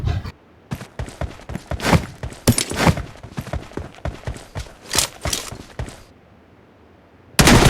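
Gunfire in the BGMI (PUBG) mobile battle-royale game: rapid, sharp shots crack in irregular bursts for several seconds, fall to a quiet lull, then a loud new burst starts.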